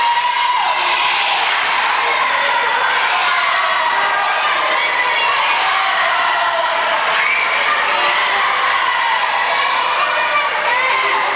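Crowd noise from spectators at a middle school boys' basketball game between Summertown and South Lawrence, a steady, loud roar of voices and shouting that runs throughout, with a bouncing ball and a commentator's talk mixed in.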